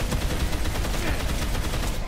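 Gunfire in the Dead Island zombie game on PS4, a steady dense volley of overlapping shots filling the whole stretch at constant loudness with no clear gaps between reports.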